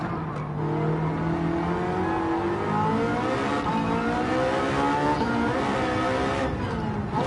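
In Gran Turismo 7, a Porsche 918 engine revs loudly and continuously, its pitch climbing and falling through shifts and steady high-revving stretches, with no one talking over it.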